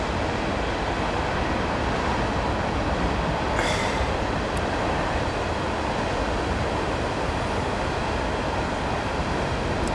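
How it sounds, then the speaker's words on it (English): A long train rushes past fast and close, a steady loud roar of wagons and rails with brief wheel squeals, continuous throughout with no talk. "that's a long train, but it's flying too."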